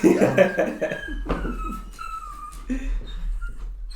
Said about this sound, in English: Max, relax. A little Maxie dog.